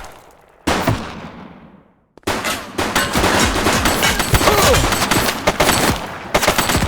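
Gunfire in The Precinct, a police shootout: after a quieter fading start, a sudden loud burst of shots, a brief gap, then sustained rapid automatic fire with sharp cracks, close and intense throughout.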